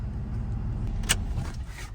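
A pickup truck rolls to a stop and parks on higher ground beside a fence line, its engine rumbling low and steady throughout, with a brief sharp click near the middle.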